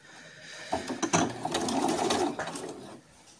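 A sewing machine stitches the top seam of a sheer voile curtain, its steady mechanical whir running close and continuous for about two seconds before slowing and stopping.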